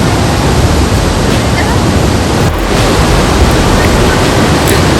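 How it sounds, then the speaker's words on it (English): Karkatgarh Waterfall, about 300 feet wide and 100 feet high, at full flow in the rainy season, roaring as a loud, dense, unbroken rush of water close by, with some wind buffeting the microphone. "Can you hear the roaring sound of the waterfall?"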